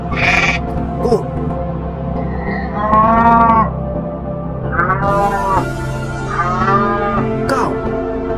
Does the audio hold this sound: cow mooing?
yes